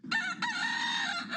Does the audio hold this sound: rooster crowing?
yes